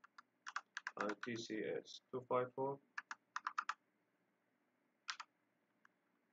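Keys clack on a computer keyboard while coding in Java, close and crisp in short irregular bursts, with a brief spoken phrase partway through and a final few taps after a pause.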